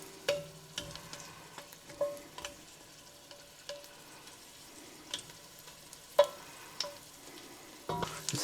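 Garlic frying in oil in a pan for Italian lentil soup, a quiet ongoing sizzle with scattered stirring clicks and scrapes of a utensil against the pan, no voices.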